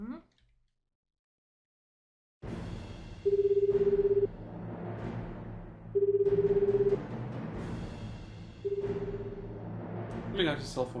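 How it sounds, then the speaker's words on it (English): A telephone rings in the video game 428: Shibuya Scramble, three loud electronic ring bursts spaced evenly about three seconds apart over a steady low background, with no talk. "The phone rang several times before I was about to go."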